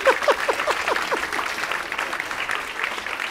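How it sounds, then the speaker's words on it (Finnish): An audience in a Finnish stand-up comedy show gives a short round of applause, steady clapping that fades slightly, with a few voices calling out at the start. "Annetaan Santulle kunnon aplodit"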